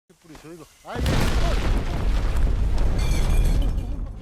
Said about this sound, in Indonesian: Lalu tiba-tiba terjadilah goncangan yang sangat keras